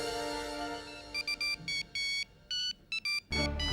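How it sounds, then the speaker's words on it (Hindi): A phone rings with a repeated electronic tone in short bursts, close and clear over a faint background hum, with no talking. "ये शायद अवनी का फोन।"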